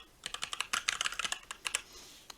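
Rapid typing on an ASUS ROG Falchion NX ultra-compact, light mechanical keyboard, a close, crisp run of clicky keystrokes in an irregular rhythm, heard alone.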